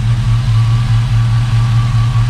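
A bagged Chevy C10 truck with an LS engine swap and Hooker Blackheart LS manifolds idles steadily, its exhaust giving a loud, deep, continuous low rumble close by with no voices.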